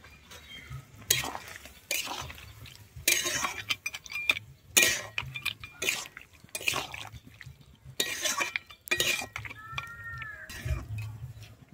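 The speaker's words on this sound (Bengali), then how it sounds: "আমি এরপরে দিয়ে দিচ্ছি ভেজে রাখা বড়িগুলো" Fried lentil dumplings (bori) dropped into a pan of cauliflower stalk curry, giving a run of loud stirring scrapes and clatters over a low, steady simmer, with short bursts recurring every second or two.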